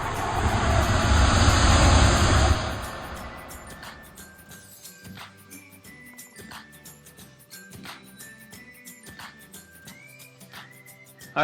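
A Lego City space toy spacecraft lands: a loud, rushing, engine-like roar for about two and a half seconds, then fading into quieter toy clicks, clinks and scattered mechanical blips.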